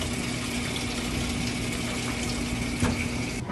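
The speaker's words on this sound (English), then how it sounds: "So it was filling with water, but then I couldn't get the motor to engage" A camper's washing machine fills with water, giving a quiet steady gushing flow under a low pump hum, with one brief clunk near the end.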